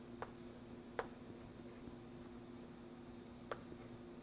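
Faint writing on a board during a fluid dynamics doctoral lecture: three sharp taps separated by long pauses, with soft rubbing between them over a low steady room hum and no talking.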